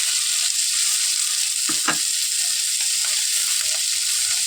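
Ground spices frying in a pan with ginger, cumin, garlic, turmeric, salt and dry chilli powder, a steady bright sizzle with a couple of brief scrapes from a stirring spoon.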